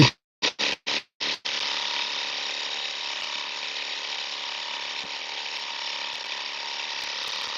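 A Flowrinse gold trommel runs with a steady mechanical whir and rattle after a few short, sharp starting bursts, loud and continuous with no talk over it.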